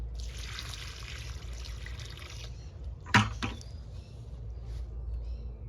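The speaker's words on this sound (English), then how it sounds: "that was some rainwater that I captured in a bucket" Rainwater poured from a bucket onto garden soil beside a newly transplanted watermelon or squash plant, a soft trickling wash that fades out, followed by a sharp splash and a few small drips.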